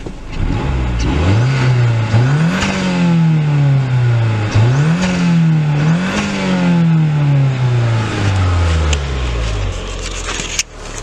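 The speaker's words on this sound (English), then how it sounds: "see if I can get a little blow-off noise here" A 2007 Mazdaspeed 6 engine revs up repeatedly through the gears, pitch rising and dropping with each shift, loud and close, with a brief sharp turbo blow-off hiss near the end.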